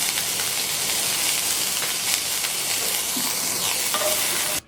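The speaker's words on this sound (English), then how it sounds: "keep a pan on a high flame, and first we're gonna cook the vegetables for about a minute or so." Vegetables sauté in a pan over a high flame, with a steady loud sizzle and hiss and the occasional scrape of stirring, ending in an abrupt cutoff.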